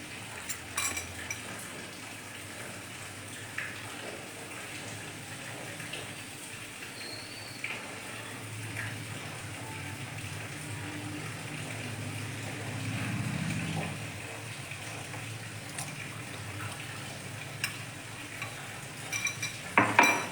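A spoon stirs a mixture into hot sugar syrup in a pan, giving a long run of faint scraping and soft sizzling. Occasional clinks of metal sound against the pan.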